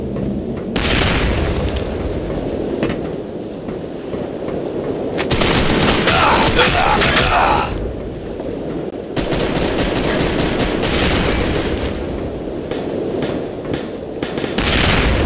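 Inside the video game District 187, a loud grenade explosion booms and is followed by sustained bursts of automatic gunfire, dense and continuous, with no voices over it.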